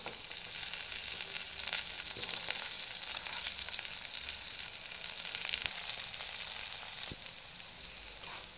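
Pieces of chilli idli roast in oil in a pan, crackling and sizzling steadily with scattered sharp pops.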